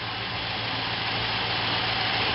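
A 1958 Plymouth Belvedere engine idles steadily nearby, a low, even rumble with a faint vibration and no voices.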